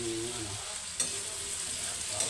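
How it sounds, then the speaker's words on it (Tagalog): Tofu (tokwa) frying in a pan for tokwa sisig gives a steady, close, hissing sizzle, with a brief clink of stirring partway through. "Piniprito natin."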